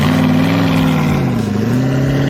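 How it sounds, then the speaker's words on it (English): A 2025 BMW M235i xDrive Gran Coupe with the M Sport exhaust gives a steady, loud, close growl, a deep droning tone that dips slightly and then holds before cutting off. "BMW also gives you an M Sport exhaust system, and while it does have a nice growl"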